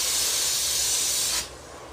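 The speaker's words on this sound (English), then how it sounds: "this is with the touch-up gun" A touch-up spray gun laying down paint for a lowrider pattern hisses steadily and loudly at close range, then cuts off abruptly near the end, leaving only faint room tone.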